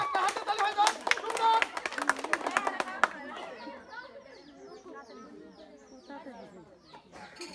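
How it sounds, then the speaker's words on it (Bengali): A group of people clap together in a burst of sharp, rapid applause for a few seconds during a blindfolded ring-toss challenge, then it fades and a voice talks over quieter background sounds. "সবাই একটা হাততালি একসাথে।"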